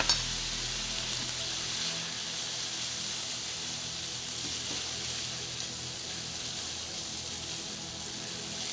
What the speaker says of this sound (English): add the soy sauce, and stir a few times to coat the noodles